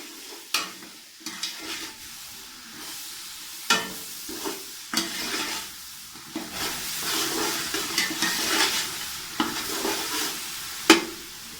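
Chicken biryani ingredients frying in a pot, a steady sizzle broken by repeated scraping stirs and clanks of a spoon against the pot, close and fairly quiet, with no talk.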